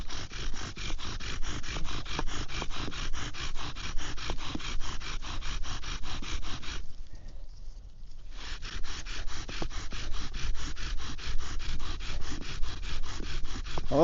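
Wooden bow drill spinning in a socket to start a fire, a steady rhythmic rubbing and scraping of wood on wood that stops briefly midway, then resumes at the same pace.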